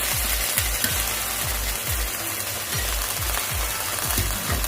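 Manchurian frying in a pan with tomato sauce and soy sauce, a steady close sizzle broken by repeated rhythmic scraping strokes of a spatula, roughly two per second, with no talking.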